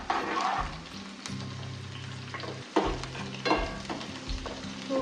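Vegetables and green chillies sizzle and fry steadily in a pan for a sandwich, with occasional stirring scrapes and clinks over the continuous crackle; no talking.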